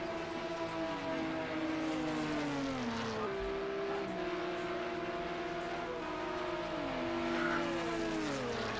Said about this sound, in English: Zanny just got onto the loud pedal coming out of La Source and snapped sideways on power